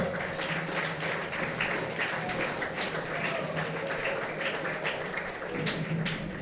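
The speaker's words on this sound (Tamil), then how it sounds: "நல்லா கைத்தட்டுங்கப்பா" Audience at a Tamil college function honouring an award recipient breaks into steady, dense clapping that holds evenly throughout at moderate loudness, with faint murmuring underneath.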